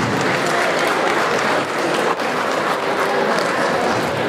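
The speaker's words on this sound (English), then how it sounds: "Let's give Mommy another round of applause." A crowd at a 50th birthday party in a wedding venue in London applauds, loud and sustained clapping from many people that holds steady for the whole stretch with a brief dip midway.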